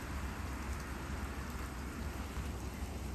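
Light rain falls with mixed snow on a winter morning, a faint, even hiss of drops spread steadily across the whole moment, distant and without any voices.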